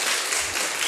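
A church congregation at a Sunday service applauds a visitor with a brief, dense burst of many hands clapping at once, steady and close, with no talk.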